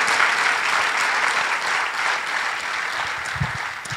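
A church congregation applauds in a sustained, dense burst of clapping that fills the room and holds steady throughout, with a few low thumps near the end.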